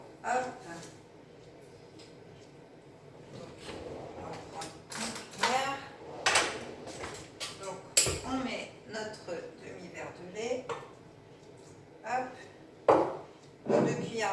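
A spoon clinks and scrapes against a bowl while stirring cake batter with milk, oil and grated cheese, irregular taps and scrapes near the microphone.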